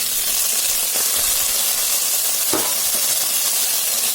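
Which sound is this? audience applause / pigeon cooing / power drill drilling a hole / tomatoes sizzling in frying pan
tomatoes sizzling in frying pan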